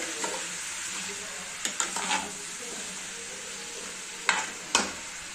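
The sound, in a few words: stirring bottle gourd pieces frying with green chillies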